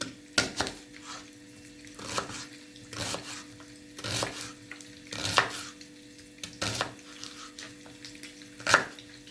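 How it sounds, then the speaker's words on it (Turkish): Knife chopping onions on a cutting board for a chicken gizzard dish, a slow, irregular series of sharp, close chops over a steady kitchen hum. "Ben şimdi soğanlarını doğramaya başlayacağım."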